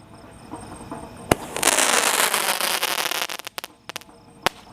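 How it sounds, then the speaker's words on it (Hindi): An Ajanta 12-shot firework goes off at night during Diwali: a sharp bang, then a dense fizzing crackle that runs for about two seconds, followed by a few separate loud pops. "ये चल रहा है हमारा अजंता का 12 शॉट।"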